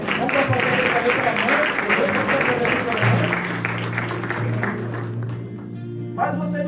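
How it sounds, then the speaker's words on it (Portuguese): A church congregation applauds during a worship service, with sustained clapping over held organ or keyboard tones and a voice speaking through it. "vamos aplaudir a Deus pelo pastor"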